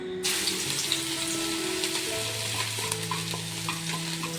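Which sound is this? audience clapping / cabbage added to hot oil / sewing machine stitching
cabbage added to hot oil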